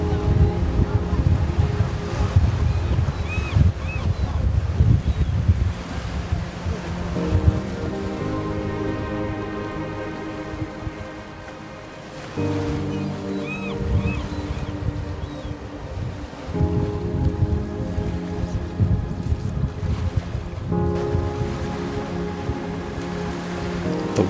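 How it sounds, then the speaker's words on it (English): Huge waves crash heavily onto the rocky shore at Portland Bill on the Jurassic Coast in high wind, a loud continuous surging roar with repeated swells and strong wind buffeting the microphone. "And the waves are just crashing and they're huge and massive."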